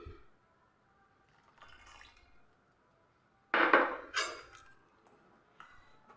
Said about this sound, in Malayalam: ഇനി ഇതിലേക്ക് നമുക്ക് നമ്മുടെ മാറ്റിയെടുത്ത നമ്മുടെ ഈ ഒരു കസ്റ്റാർഡിൻ്റെ മിക്സ് അങ്ങ് ഒഴിച്ചു കൊടുക്കും.